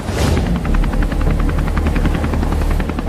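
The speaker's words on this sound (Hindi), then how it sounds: "चल पायलट, हेलीकॉप्टर को उड़ा।" A cartoon helicopter takes off with a loud, close, rapid thudding rotor chop over a deep rumbling drone, beating steadily throughout.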